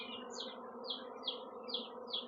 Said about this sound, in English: the garden is currently just swarming with bees